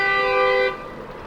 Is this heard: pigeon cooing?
no